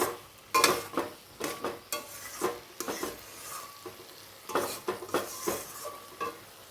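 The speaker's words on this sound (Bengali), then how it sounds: "সেদ্ধ করে রাখা মসুর ডাল এবং এঁচোড়টাকে দিয়ে দিলাম এবং মশলার সঙ্গে আরেকটু কষিয়ে নেব" Boiled lentils and jackfruit being stir-fried with spices in a pan, with repeated scraping stir strokes, utensil knocks against the metal and a soft sizzle underneath, close and moderately loud.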